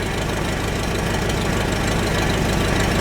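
An old Farmall tractor, long left sitting, runs with the choke fully off. The engine keeps up a loud, steady, rough chugging drone with a knocking pulse that holds level the whole time, and no one talks.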